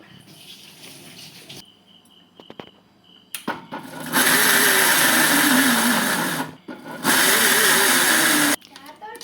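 Mixer grinder jar blitzing dried prawn and mango chutney, loud whirring bursts in two long runs separated by short pauses, with quieter handling sounds before.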